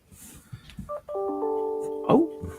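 A short electronic notification tune from a phone, a few sustained tones stepping downward and then a brighter chime, heard nearby with faint background sounds and no speech.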